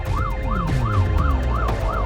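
An Australian paramedic ambulance's siren wails in quick, evenly repeating rising-and-falling cycles, loud and close, over a steady low engine rumble from the vehicle moving off-road.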